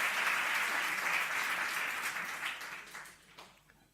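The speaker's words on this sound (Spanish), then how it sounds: "le vamos a dar un aplauso enorme" An audience at a university talk by Rafael Santandreu gives a burst of dense applause that starts full and loud, then gradually thins and fades away.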